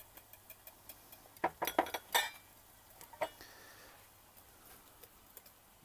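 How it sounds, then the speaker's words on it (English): A utensil stirs salt and baking soda together in a bowl, giving a quiet cluster of clinks and scrapes against the dish, with a faint steady tick in the background. "Just stir it together, and then we're gonna stir this into the egg mix."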